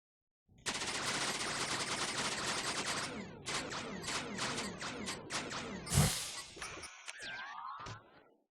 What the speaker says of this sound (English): The Creatornator can fire anything you can dream of, and probably more.